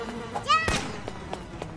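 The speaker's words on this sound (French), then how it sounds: "Je dégomme les abeilles à la mitraillette." Buzzing bees in a video game shot with a machine gun, a whining insect drone broken by a loud burst and sharp thuds, followed by scattered smaller impacts.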